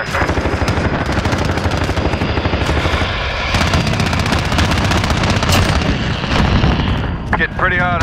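Dense, loud gunfire from a PKM machine gun in a Call of Duty: Modern Warfare Domination match, with rapid automatic bursts, booming explosions and radio-style voices speaking over the constant battle roar.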